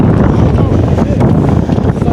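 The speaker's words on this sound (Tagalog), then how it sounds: "Yung lamig naman ng hangin ngayon," Cold wind blows hard across the microphone beside Sayram Lake, a loud, constant rumbling buffet that fills the whole stretch.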